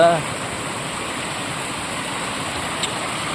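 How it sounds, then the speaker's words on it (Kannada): A steady rushing of falling water from a waterfall at Almatti Dam fills the scene, a broad even hiss with a faint voice fragment at the very start. "ಇಲ್ಲಿ ಜಲಪಾತ"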